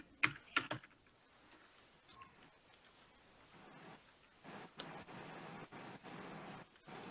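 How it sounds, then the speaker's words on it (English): Computer keyboard typing during a computer class lesson, bursts of quiet, fairly close keystrokes with short pauses, then a steadier run of rapid clicking toward the end. "When I'm done typing, I press enter"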